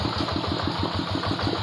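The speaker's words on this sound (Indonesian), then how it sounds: "memang menggunakan mesin traktor Quick Impala" A Quick Impala hand tractor running in a rice field, its small engine chugging in a fast, even pulse, loud and close throughout.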